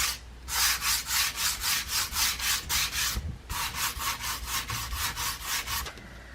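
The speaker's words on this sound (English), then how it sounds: "Going to use a bit of a sander just to smooth it out a little bit" Sander smoothing a wooden dollar-store Christmas DIY piece: loud, rhythmic back-and-forth abrasive strokes, up close, in two steady runs split by a short pause.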